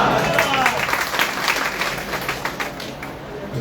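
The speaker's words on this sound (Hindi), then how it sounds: "जोरदार तालियों से आवाज करो" Crowd applause at a party workers' conference in Ayodhya, a dense continuous wash of many hands clapping, fairly loud and steady throughout with faint voices mixed in.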